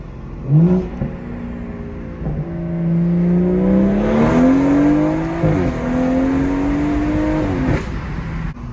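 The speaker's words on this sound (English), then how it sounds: "turn them off at least once just so you can hear how good your turbo sounds" Stage 2 BMW M240i turbo engine accelerating in second gear, a loud rising drone that climbs steadily for several seconds with a short dip at a shift point, heard from inside the car.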